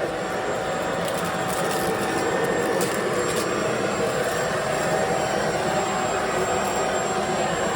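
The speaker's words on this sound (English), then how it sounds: "you can definitely see all those specks of dirt are being vacuumed" A Bissell Pet Slim cordless stick vacuum runs continuously nearby with a steady, high whining motor hum and airy rush, holding an even level with faint scraping as it moves over a floor.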